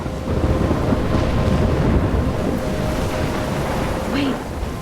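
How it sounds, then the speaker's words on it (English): Stormy weather in the video game Life is Strange: a steady roar of wind and surf-like noise fills the scene throughout, loud and continuous, with a faint voice-like cry near the end. "I'm trapped in a storm?"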